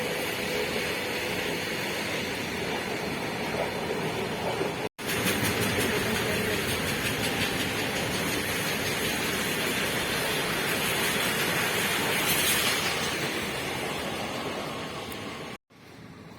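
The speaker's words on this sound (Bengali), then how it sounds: "আমাদের বাড়ির পাশেই ট্রেন লাইন, তো ওই দিক দিয়ে ট্রেনও যাচ্ছে" A train passing on a railway line near a house, a broad continuous rumble and rush that swells in the middle and then cuts off abruptly.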